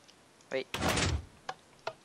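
A door in a video game slides or swings open with a loud rumbling scrape lasting about half a second, followed by a couple of faint clicks, with brief voices talking around it.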